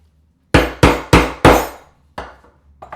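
A ball peen hammer strikes metal hardware being set into a leather wallet: four loud, sharp, evenly spaced blows close up, then a lighter tap and a couple of faint knocks.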